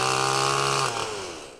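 A chainsaw cuts driftwood logs gathered on a Black Sea beach in Ordu, roaring loud and close at high speed before its pitch drops as the engine slows, with no talking.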